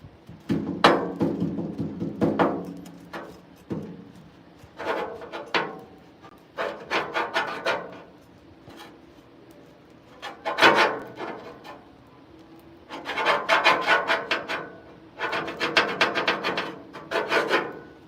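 Toast is scraped and cut with the edge of a spatula in a home kitchen, producing bursts of close scratchy rasping strokes separated by quiet gaps.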